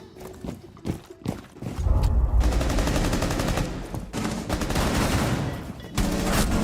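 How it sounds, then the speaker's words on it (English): Shotgun fire in a shooter video game: several sharp blasts early on give way to a dense, sustained stretch of rapid gunfire and booming impacts, loud and busy throughout, with no talk. "Oh, that's a shotgun."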